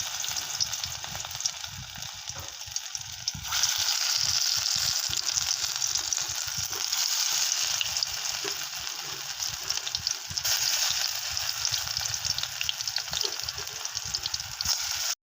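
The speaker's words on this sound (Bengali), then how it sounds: "বড়াটা ভেজে নিচ্ছি" Fritters made of lentil paste, banana blossom and curd fry in hot oil with a dense, continuous crackling sizzle that swells after a few seconds and holds steady, close and loud, with faint stirring underneath.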